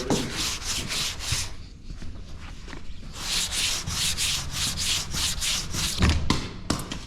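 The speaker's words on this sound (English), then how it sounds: "So let's get to sanding. That's what we gotta start off with because the black's not gonna stick unless we sand it." Hand sanding a Caprice car body ahead of matte black paint, with close, rhythmic back-and-forth scratchy strokes, a few brief pauses and a louder bump near the end, with no talking.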